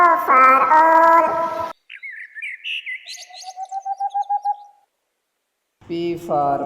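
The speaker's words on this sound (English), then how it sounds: "O for owl" An owl call sounds in a children's alphabet song: a run of short, evenly spaced hooting and chirping notes alone between stretches of singing.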